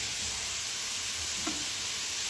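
Chicken pieces dropping into a hot pan of oil, giving a steady broad frying hiss with one brief louder sizzle burst midway, no voices.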